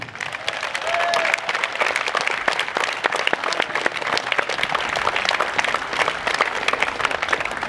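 A tennis crowd gives a sustained ovation at a women's tournament trophy ceremony in Marseille, dense continuous applause from many hands throughout, fairly loud with no pauses.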